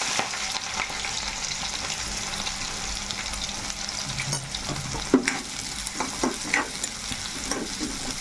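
Green chillies and onions fry in well-heated oil, giving a steady broadband sizzle with a few scraping stirs and clinks near the end, close and alone with no talk.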